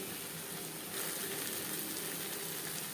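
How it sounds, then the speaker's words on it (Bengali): Spices with ginger and green chilli paste frying in a pan for a tilapia curry, a steady broadband sizzle that swells slightly partway through, close and continuous with no voices. "কাঁচা গন্ধ যাওয়া পর্যন্ত নাড়াচাড়া করব।"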